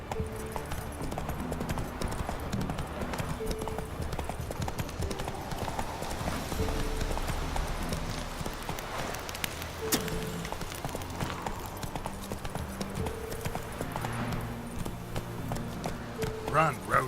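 The horse Roach gallops through The Witcher 3 in a steady, close rhythm of hoofbeats that runs throughout, with game music and ambience layered underneath.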